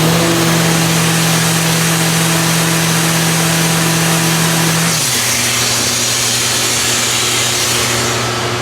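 Electric sander running with an automatically linked shop vacuum, a loud steady motor whine and roar throughout, close and constant, with the pitch settling lower partway through.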